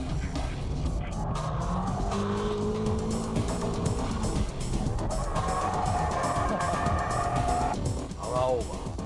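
A BMW drifts using the shift lock technique, its engine roaring steadily with sustained tire squeal and skidding throughout, while a voice talks over it.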